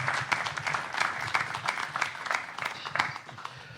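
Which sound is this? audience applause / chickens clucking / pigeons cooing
audience applause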